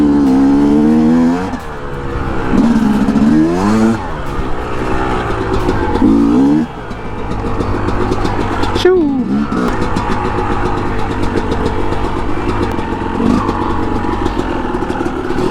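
A dirt bike rides a fast, flowing trail in Colorado, its engine loud and close, revving up and down in repeated surges with rattling and clatter over rough ground, while a rider talks throughout.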